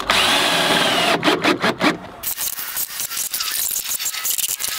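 A power drill drives screws into the wood of a chicken nest box, with a rapid stuttering burst of short pulses followed by quick ratcheting rasps, loud and close with no talking.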